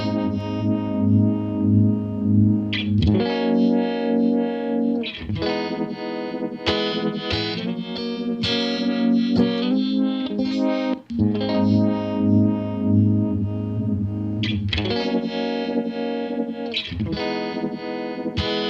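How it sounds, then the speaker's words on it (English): Electric guitar run through Helix Native modulation, heavily processed with a sweeping low pass filter, playing sustained chords in loud, distorted sections with brief gaps and abrupt changes in tone across the passage. "let me play it back and really kind of notice the low pass filter and how drastic it is whenever I change the lamp bias right here"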